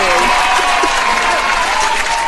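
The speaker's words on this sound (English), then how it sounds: "We give our good guests the clap or the applause." Loud, dense applause fills the whole stretch, steady and continuous, welcoming a guest on a podcast.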